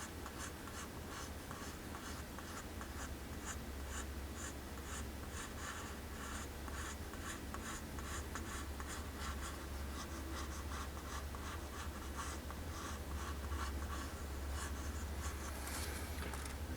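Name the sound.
pencil drawing an iris on paper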